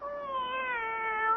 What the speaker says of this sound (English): My very own cat.